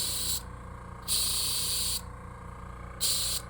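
A spray gun lays red paint onto a fishing lure in three sharp hissing bursts, each lasting about a second, separated by short pauses under a low steady background hum.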